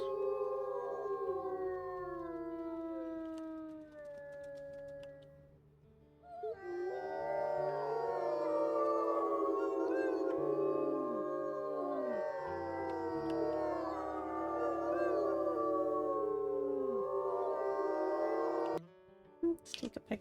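A wolf pack in WolfQuest howls together on a cliffside at night, long overlapping sustained howls rising and falling in layered chorus, loud and continuous with a brief pause partway through.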